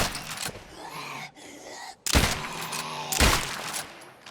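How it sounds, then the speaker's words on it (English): Gunfire from a weapon in State of Decay 2: a few loud, sharp shots with a ringing tail, separated by short gaps and fired at a moderate pace, with no talk. "The weapon fires at a decent speed, even though it's not, like, a completely semi-automatic weapon."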